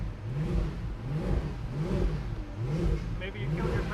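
The engine of a Mercedes E63 AMG wagon with a failing power steering pump, revving in repeated rising and falling surges, heard moderately close with a faint voice underneath.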